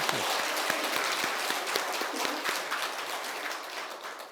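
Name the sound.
applause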